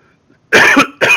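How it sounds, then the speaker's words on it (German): A lingering, persistent cough comes as two loud, close bursts, a longer hacking cough followed quickly by a shorter one, after a moment of near silence. "Immer noch der blöde Husten da."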